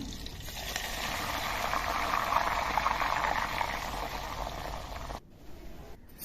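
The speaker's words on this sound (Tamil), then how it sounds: "எண்ணெய் காஞ்சது கடுகு போட்டுக்கலாம் பண்ணுறோம் கடுகு பொருந்ததும் பச்சை மிளகாய் வெங்காயம் கருவேப்பில போட்டுக்கலாம்" Mustard seeds, green chili, onion and curry leaves fry in hot oil in a miniature clay pot, giving a steady, close sizzle that runs without a break before it briefly drops near the end.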